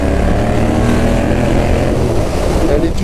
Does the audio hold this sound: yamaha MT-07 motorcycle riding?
yes